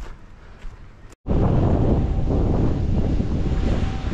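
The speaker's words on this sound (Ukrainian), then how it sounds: "Але такий вітер сильний, що здається, що той вітряк." Strong wind buffets the microphone outdoors while berry picking, a sudden loud roaring gust taking over after a brief lull and holding steady to the end.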